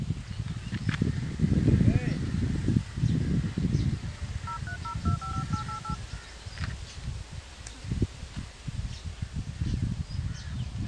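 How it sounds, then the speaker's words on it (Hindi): A phone call is dialed, a short run of keypad tones beeping in quick succession partway through, heard under ongoing speech and outdoor background noise. "तो चलो उसे कॉल करते हैं।"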